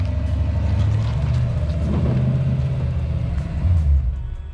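A Foxbody Mustang GT engine running on its own, a steady low rumble that holds throughout with a slight swell near the end, close and fairly loud.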